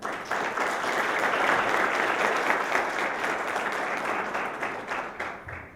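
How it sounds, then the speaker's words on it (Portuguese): Sustained applause from an audience at an education conference panel in Brazil, a dense steady wash of many hands clapping that holds strong for several seconds before starting to thin. "peço uma salva de palmas para ele"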